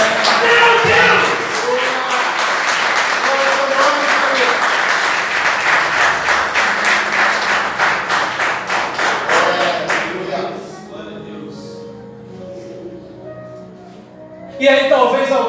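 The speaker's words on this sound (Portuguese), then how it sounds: "Aplauda Jesus nessa noite." Church congregation clapping for Jesus during a Portuguese-language evening service, steady dense applause lasting about ten seconds with voices mixed in, then fading to quieter murmurs before a short final burst of claps.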